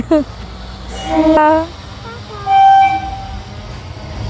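An approaching train sounds short horn toots, two or three distinct blasts over a low rumbling background, with faint voices nearby.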